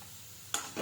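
A spatula stirs banana flower thoran in a hot pan, making two quick scraping, sizzling strokes against a quiet kitchen background.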